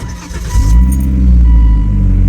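A 2005 Volvo S60 R sedan's turbocharged all-wheel-drive engine runs close by, a steady deep rumble that swells after a brief start and holds strong and loud throughout.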